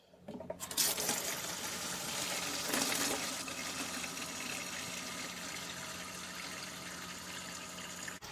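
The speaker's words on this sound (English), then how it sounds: "we add water." Water pours steadily into a store-bought juice bottle to dilute the juice, a continuous gushing fill that runs close and fairly loud for several seconds after a brief knock at the start.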